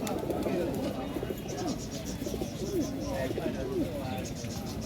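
Pigeons at a busy pigeon market coo repeatedly in overlapping rolling calls, close and clear, over a background of market voices.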